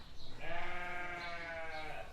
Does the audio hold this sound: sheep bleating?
yes